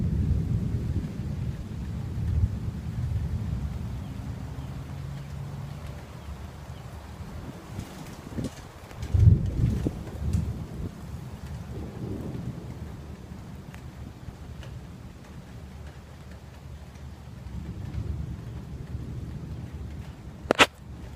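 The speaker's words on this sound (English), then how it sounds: "You can hear the thunder though, it is pretty cool." Low rumbling thunder rolls through a Florida rainy-season storm, with steady wind and rain noise throughout and a louder burst midway, no talking.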